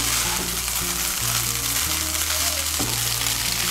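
Ghee being stirred into vegetarian vegetable chira (flattened rice) pulao in a hot pan gives a steady, close sizzle with soft scraping and stirring throughout, over a faint low background hum.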